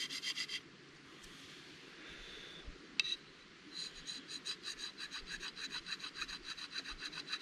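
A custom Yellow Hawk chopper knife blade is sharpened by hand, with rhythmic rasping strokes along the edge, a short burst, a pause with a faint click, then a steady run of quick repeated passes, close and fairly quiet.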